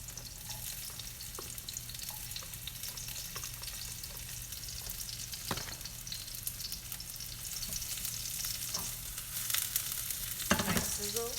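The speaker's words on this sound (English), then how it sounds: "Nice sizzle." Red onions and garlic sizzle steadily in a hot pan for the whole stretch, with a few louder stirring scrapes and spatters near the end; no one talks.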